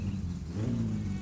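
Car engine with a light flywheel in the game My Summer Car, revving quickly and climbing in pitch in one short steady burst, moderately loud with no talk.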